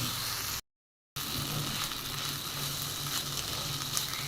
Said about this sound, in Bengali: আমি আবার কিছুটা ভেজে দিব।